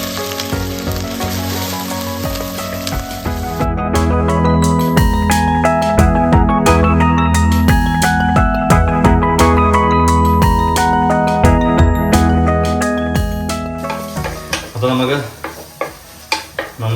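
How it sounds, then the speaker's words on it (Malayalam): Mustard seeds crackle and pop in hot oil in a clay pot while cooking a fish curry, a dense, loud sizzle with rapid sharp pops, closing in scattered clicks as it dies down. "കടുക് പൊട്ടുന്നു."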